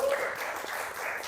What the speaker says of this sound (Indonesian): Kita kasih tepuk tangan dong